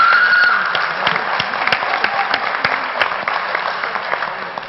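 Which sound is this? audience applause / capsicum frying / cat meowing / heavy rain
audience applause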